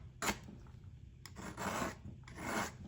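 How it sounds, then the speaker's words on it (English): Palette knife scraping paint horizontally across a landscape painting, three separate dry rasping strokes, close and fairly quiet, with no talk. "So I'm going to scrape horizontally on this one."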